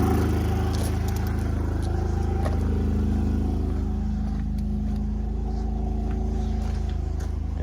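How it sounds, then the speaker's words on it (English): A Predator 3500 watt inverter generator runs steadily in economy mode, a loud continuous engine drone with a low hum and faint mechanical rattle, holding an even level throughout. "let's see what it sounds like with the economy mode on"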